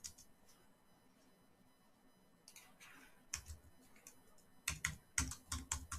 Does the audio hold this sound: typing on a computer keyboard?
yes